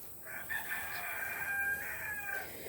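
Rooster crowing in a backyard hen flock, a single drawn-out cock-a-doodle-doo with rising and falling phrases, fairly faint and distant, with hens softly clucking around it.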